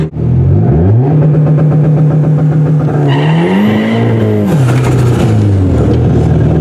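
The engine of a turbocharged Chevrolet Cavalier revs loudly and close, its pitch climbing and falling unevenly as it swings between running rich and lean, with a rising turbo whistle.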